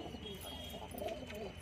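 Hyderabadi pigeons with white coats give soft, low cooing close by, the calls blending into a constant background hum through the short moment.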